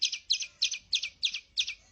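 Birds give a rapid series of six sharp, agitated chirp bursts at a steady rhythm, each a quick cluster of high notes, moderately close with no talking.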